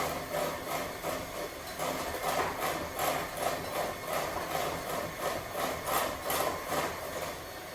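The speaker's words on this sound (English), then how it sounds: "Just going to scrape the bowl down, make sure it's really well mixed." A spatula scrapes around a mixing bowl of ranger cookie dough with egg mixture, giving a steady, continuous rubbing and scraping texture with rhythmic strokes, close and fairly loud, with no talking.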